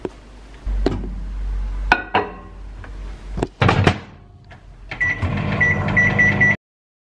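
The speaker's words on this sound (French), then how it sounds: "Et là je vais mettre 2 minutes 30 au micro-ondes." Microwave oven heating a bowl of oat porridge, with thuds of the door closing and button presses, then a steady close hum of the running oven with a repeating beep tone over it, ending abruptly.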